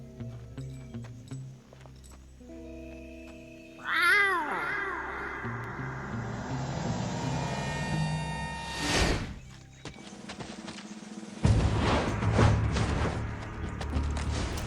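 A character's voice imitates a cat meow in Metal Gear Solid 3, giving one drawn-out, wavering meow-like cry that stands out over steady game music and background effects.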